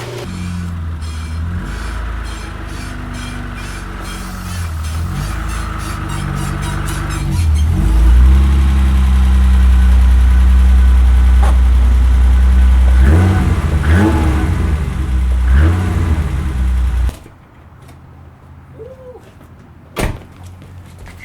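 A BMW E30 engine runs loud and close, idling then revving hard and holding high revs for several seconds, with a door clunk and a sharp cut to quiet near the end.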